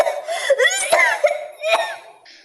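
A woman coughs repeatedly in short, rough bursts, some with a wheezy, strained edge, close and fairly loud.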